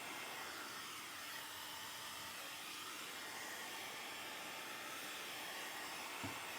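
Heat gun blowing steadily on the bulkhead of a Land Rover Defender 90 Puma to soften it, a constant close, even roaring hiss with no talk.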